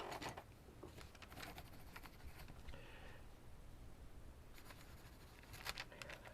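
Pen or pencil scratching across paper in short, quiet bursts while a note is jotted by hand, with soft rustling between strokes and no talking.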